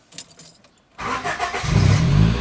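A 1993 Honda Civic engine catches and runs, its loud mid-range roar rising and thickening after a brief quiet moment, holding steady and close with no talk over it.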